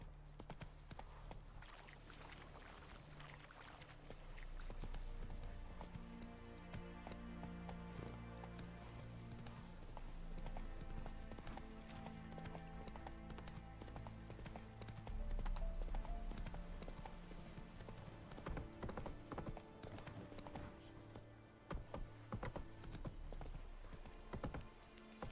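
The horse Roach galloping in The Witcher video game, a continuous rhythmic clip-clop of hooves running steadily over a bed of game music and ambience.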